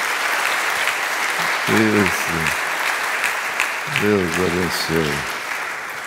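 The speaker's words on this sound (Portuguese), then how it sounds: "Vamos louvar com as palmas." A church congregation claps hands in praise with steady, sustained applause throughout, a close crowd sound, while a voice speaks briefly over it in short bursts.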